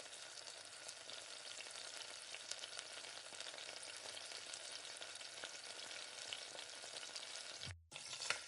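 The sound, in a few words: stirring masala frying in oil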